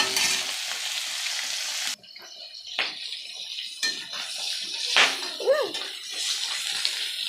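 Pabda fish go into a pan to fry, giving a bright sizzle that cuts off sharply and returns in softer bursts. Scattered clinks and handling noises come between the bursts.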